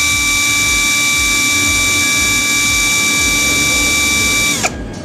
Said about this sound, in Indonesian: Saya set ke mode drilling dan juga torsi nomor 20 ya, percepatan nomor 1 terlebih dahulu.